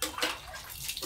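Laundry is rinsed by hand in a basin of water during a home washing day, with close splashing and sloshing in short bursts and drips.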